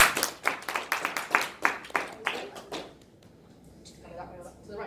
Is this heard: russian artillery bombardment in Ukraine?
no